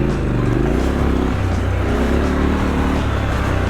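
A 2021 Triumph Scrambler 1200 XE motorcycle ridden off-road up a gravel climb, its engine a steady, close, low rumble with a rough texture, no speech over it.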